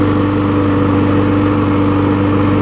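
Small Craftsman lawn mower engine idling steadily at close range, a constant droning hum with no variation and no talk over it.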